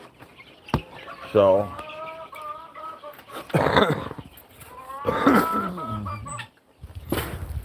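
Baby chicks being moved with their starter feed cluck and peep in repeated bursts, loud and close, with short gaps between the calls.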